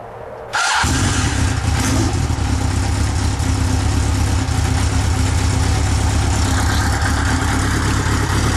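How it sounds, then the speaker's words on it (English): A motorcycle engine cranks and catches after a brief quiet moment, then settles into a steady, loud, close idle that runs unbroken to the end. "First thing I'm going to do is start the motorcycle up"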